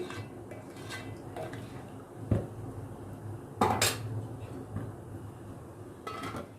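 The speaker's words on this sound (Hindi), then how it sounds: "और इसे लिड कवर करके पकने के लिए रखूंगी।" A lid set onto a cooking pot of aloo kofta curry, a couple of distinct metallic clanks standing out against quiet kitchen background.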